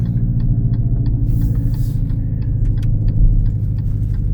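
Dodge Charger electric car playing its simulated exhaust note while driving, a steady low rumbling drone with a brief swell in intensity near the end, close and continuous with no talking.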